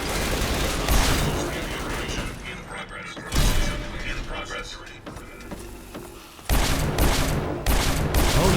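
Bursts of gunfire ring out in a firefight with ghouls in Fallout 3, dense and loud, broken by brief lulls, with a voice talking over part of it.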